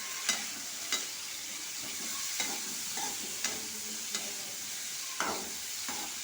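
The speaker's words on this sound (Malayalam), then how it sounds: "ഇനി നമുക്ക് നമ്മൾ വേവിച്ചിട്ടിരിക്കുന്ന കടല അതിലേക്ക് ആഡ് ചെയ്യും ഒന്ന് യോജിപ്പിച്ചെടുക്കാം" Cooked white chickpeas stirred in a pan with curry leaves, a soft sizzle under a run of spoon scrapes and taps that repeat every second or so, close by.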